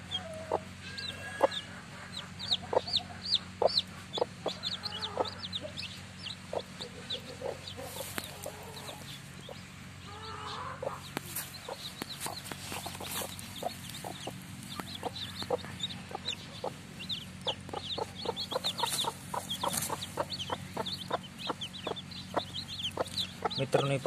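Hens cluck at a poultry farm while their chicks keep up dense, high, rapid peeping throughout, close and steady, with a low hum beneath.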